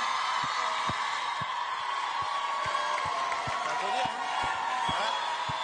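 A crowd applauds and cheers at a live show, steady dense clapping with scattered thumps from someone clapping while holding a microphone, and voices mixed in.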